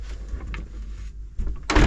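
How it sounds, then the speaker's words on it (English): The salon door on an Albin 32+2 trawler slides shut and latches, giving a short scraping slide followed by a solid close, then a sharper clunk of the lock at the end, close by and fairly loud. "this door shuts and locks."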